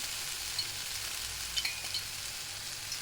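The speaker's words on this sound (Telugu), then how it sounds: "ఇలా ఆలుని ఫ్రై చేయాలి" Potatoes fry in a pan with a steady, soft sizzle, a few light scrapes and clicks rising briefly above the constant hiss.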